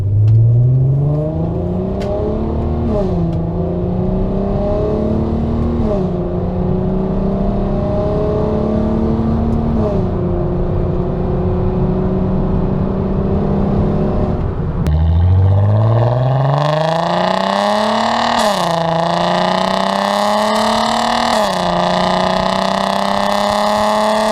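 A 2008 Volkswagen R32 with its resonator deleted revs hard through paddle-shifted gears from a standstill, the engine note rising in loud repeated sweeps, dropping at each shift, heard close from inside the cabin.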